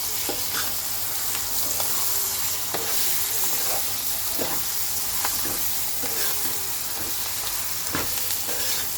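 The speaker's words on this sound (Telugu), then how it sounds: "పైనుంచి కొంచెం కొత్తిమీర వేసుకొని ఒకసారి ఇట్లా కలిపేసుకుంటే" Chopped coriander being stirred through chicken fry biryani masala in a hot pan, with a steady sizzle and frying hiss under repeated scraping strokes of the spoon, close and fairly loud, no talking.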